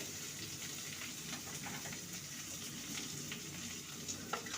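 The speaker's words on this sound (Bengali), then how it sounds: "আদা রসুন পেঁয়াজকে ভালো করে ভেজে নিয়েছি এবারে দিয়ে দেবো টমেটো কুচি" Chopped tomato drops into a pan of ginger, garlic and onion already frying in oil, bringing a steady close sizzle with soft stirring scrapes and small crackles throughout, no talking.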